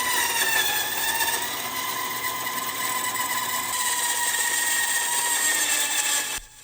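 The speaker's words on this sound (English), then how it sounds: "This may take a week, but I'm going to try to split this on my bandsaw." A bandsaw motor straining as its blade slowly cuts through a thick piece of wood, a loud continuous whining drone with steady harmonic tones that holds for several seconds before cutting off abruptly.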